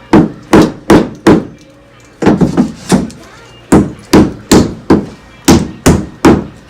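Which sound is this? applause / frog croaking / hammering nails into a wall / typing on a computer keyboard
hammering nails into a wall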